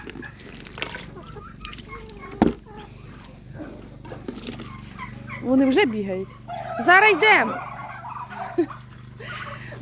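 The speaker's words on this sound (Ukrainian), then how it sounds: "Ну, вони смішні, це капець індики." Turkeys gobble and call in a farmyard, loud bursts of harsh warbling calls around the middle and later part, over background rustling and a thump, with a person speaking briefly.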